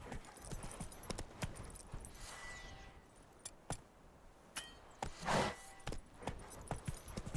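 Roach the horse's hooves clop along in The Witcher 3, spaced irregular footfalls mixed with jangling tack and clinks, fairly quiet and close.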